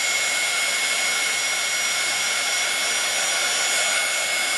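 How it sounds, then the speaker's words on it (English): A heat gun blows hot air to melt embossing powder for a Stampin' Up card, a loud, constant breathy fan roar with a faint high whine, steady and unchanging throughout with no voices. "We've got to use the heat gun."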